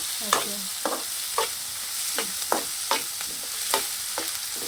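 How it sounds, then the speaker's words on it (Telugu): Bitter gourd fries in a pan toward brown with a constant sizzle, broken by regular spatula strokes about every half second, close and fairly loud, with no talking. "బాగా ఎగితే బ్రౌన్ కలర్ వచ్చేదాకా వేగాలి"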